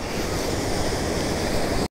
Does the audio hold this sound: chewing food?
no